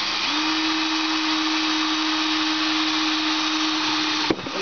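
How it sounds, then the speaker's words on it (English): A power drill runs at a steady pitch for about four seconds, boring a hole through the bottom of a homemade crayfish trap, then stops abruptly with a brief clatter. "drill a hole in the bottom."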